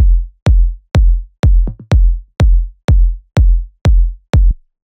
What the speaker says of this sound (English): And then a percussion to get a bit of the groove going.